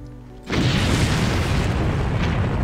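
A loud boom bursts out after a quiet start, an explosion triggered in the Far Cry Sandbox Editor, then a sustained roaring rumble that carries on to the end, with no talk.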